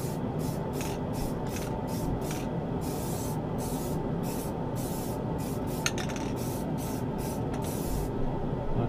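Spray paint hisses from a can nozzle onto a boomerang in repeated short bursts, each a sharp, close, airy spray separated by brief pauses, with a constant low background rumble and no talking.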